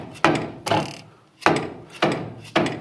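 Lower control arm on a Chevy Tahoe being worked down from the suspension after both through bolts are removed: a series of loud, close wooden-sounding knocks and clunks with creaking between, about five separate hits, no talking.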